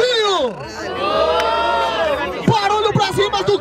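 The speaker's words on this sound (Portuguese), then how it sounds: "Barulho pras rimas do Thiago e do Leozinho." A crowd at a rap battle semifinal cheers and shouts loudly throughout, with whoops and rising voices filling the space and several sharp accented shouts toward the end.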